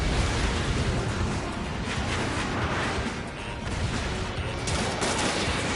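Dense, continuous explosions and rapid gunfire fill a combat scene in the jet-fighter game Ace Combat 7, a loud, unbroken roar of blasts without any gaps.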